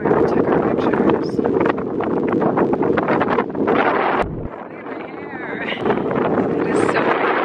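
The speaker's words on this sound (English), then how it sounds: "The wind is crazy" Strong wind near the Palm Springs windmills buffets the microphone with a loud, continuous roaring rumble, easing briefly and then surging back.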